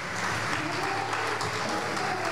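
A church congregation applauds during a sermon, a steady, even wash of clapping without pauses, moderately loud and continuous throughout.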